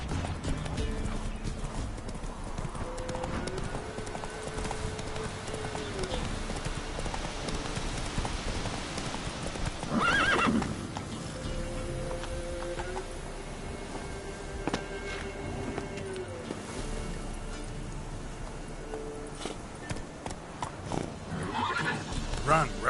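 The horse Roach from The Witcher 3 gallops with a steady clip-clop of hooves and gives a couple of whinnies over continuous game ambience.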